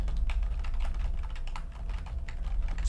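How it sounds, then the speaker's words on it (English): Rapid, continuous clacking of keys being typed on a computer keyboard, close and steady with no pauses or voices. "He's typing, I just don't want to type any keys."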